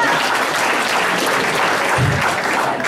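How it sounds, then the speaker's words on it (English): A comedy club audience claps loudly and continuously throughout, a dense, close wash of applause with no pauses. "Everybody should be clapping, eh?"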